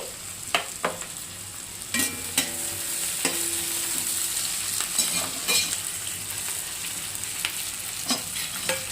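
Onions and green chillies frying in a pan for chukka leaf chutney, a continuous sizzle close by with repeated spoon taps and scrapes against the pan.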